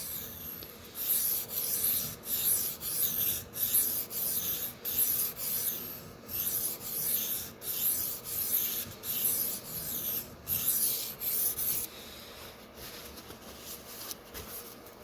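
A dull Sabatier paring knife is sharpened on a 500-grit whetstone, its steel rasping in a steady rhythm of back-and-forth strokes, close and fairly loud, easing off near the end with no talking.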